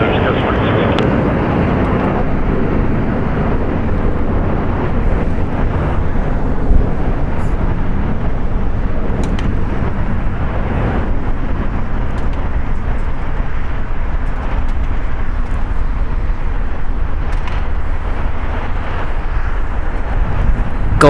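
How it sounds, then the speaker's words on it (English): Boeing 787-9 Dreamliner jet departing Los Angeles International Airport for Paris, a steady loud engine roar holding for the whole stretch, with faint radio chatter and talk underneath. "Once again going to Paris. Boeing 787-9 Dreamliner."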